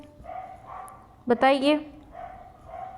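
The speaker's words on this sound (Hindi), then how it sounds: "आज पता नहीं कुत्ते बहुत भौंक रहे हैं।" A dog barks outdoors in a quick burst of several yips and barks, loud against a quiet background, with someone talking before and after.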